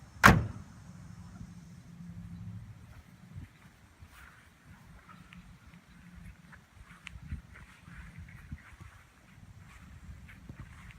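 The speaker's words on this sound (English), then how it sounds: "notice how nicely the door shuts." A 1929 Reo Flying Cloud car door shuts with one solid, close thump at the start, followed by quiet rustling and faint handling sounds.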